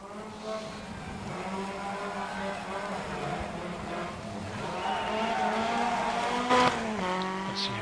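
A rally car on a snowy Swedish stage roars as it drives over a barrier jump, its engine note rising and falling, with a sharp bang near the landing.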